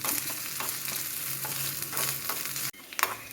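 Grated coconut fries in a little oil for a Kerala koottukari, a close steady sizzle with repeated scraping stirs, ending in an abrupt knock, with no speech.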